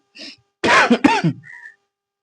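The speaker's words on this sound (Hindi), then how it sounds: "लगातार खांसी आ रहा था" A lecturer coughs and clears his throat repeatedly during a history class: a short rasp, then two heavy, close throat-clearing bursts, with a faint tone at the end.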